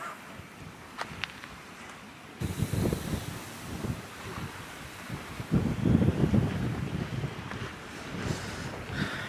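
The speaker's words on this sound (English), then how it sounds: "that wind is way up" Strong wind buffets the microphone on the seashore at Totland, Isle of Wight, during a sea fishing session: a steady rushing hiss with louder gusts swelling and fading, with surf faintly beneath.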